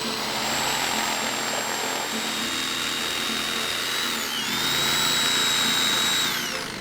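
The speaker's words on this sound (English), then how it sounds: "Then we cut along the lines with a jigsaw." Jigsaw cutting along marked lines on wooden boards, a continuous loud whining motor buzz with a pitch that dips and rises midway as the blade works through the cut.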